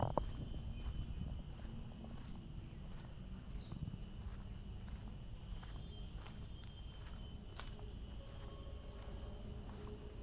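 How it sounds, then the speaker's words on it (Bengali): Steady insect chirring fills the background, a dense cricket chorus with occasional faint thuds and distant low rumble beneath. "ঝিঝি ডাকছে।"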